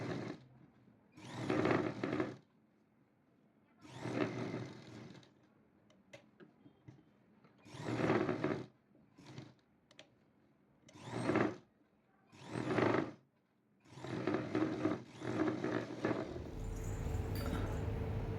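A sewing machine stitches a blouse with elbow sleeves, running in several short bursts of a few seconds each with quiet pauses between, close and moderately loud, with no talking.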